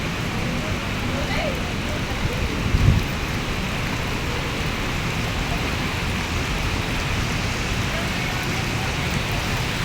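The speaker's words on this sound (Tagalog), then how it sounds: "Parang hindi titigil ang ulan." Heavy rain pours steadily and loudly on an outdoor surface, a dense unbroken hiss that fills the whole stretch, with a brief louder splash or thump near the start.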